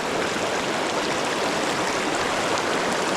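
Mountain creek in Wyoming rushes steadily, a loud, dense broadband wash of flowing water close by with no pauses.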